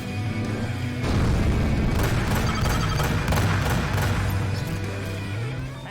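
A missile launching and exploding in the space-combat game Rebel Galaxy Outlaw: a sustained loud roaring boom with rumbling crackle and layered ship sound effects, dense and continuous.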